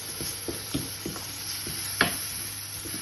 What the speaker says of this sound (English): So you're going to just fry the bacon